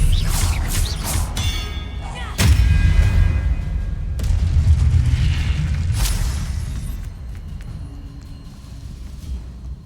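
A Confringo blasting spell in Hogwarts Legacy sets off a series of booming explosions, several sharp bursts with heavy rumbling tails that fade toward the end.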